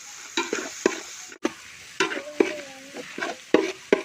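Crab roast in toddy-shop style, with ginger-garlic paste, is stirred in a sizzling pan: repeated close scrapes and knocks of a spoon come at an uneven rhythm over a low frying hiss.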